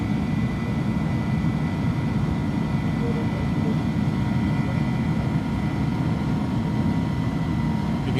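An iniBuilds A310 airliner in X-Plane 11 climbs with a steady, loud, unbroken engine roar that holds level throughout, with no voices over it.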